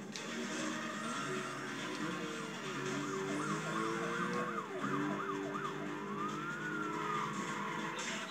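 Wailing police siren from a chase in the racing video game Need for Speed Carbon, its pitch sweeping up and down repeatedly over steady engine and road noise, loud and continuous throughout.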